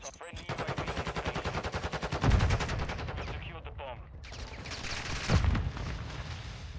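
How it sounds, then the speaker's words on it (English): Rapid automatic gunfire from Modern Warfare 2 Search and Destroy rattles in fast, steady strings, broken by a couple of heavier booming shots, with players talking over the action. "look where I'm shooting!"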